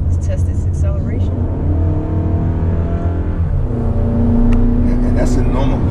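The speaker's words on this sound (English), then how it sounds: "let's test this acceleration" A 2019 Toyota RAV4 Adventure accelerates in normal mode, its engine droning and climbing in pitch close by, with people talking over the rising motor and road noise.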